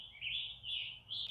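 Birds chirping in a quiet forest at Harriman State Park on West Mountain, New York: a few repeated bright trilling calls at moderate distance, fairly faint, with near silence between them and no voices.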